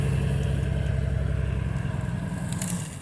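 An old free Jeep that sat for 15 years idles with a rough, steady mid-pitched rumble and faint clatter, close up and continuous, fading slightly near the end.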